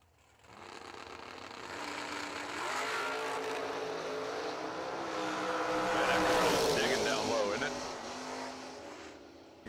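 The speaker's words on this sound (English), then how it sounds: "Pollard is dialed in 529 with his Camaro over here on the right side" Drag racing launch of a Camaro and an Oldsmobile at the Summer Fling, engines roaring down the strip and swelling in a sustained, loud rush, with an announcer talking over the noise throughout.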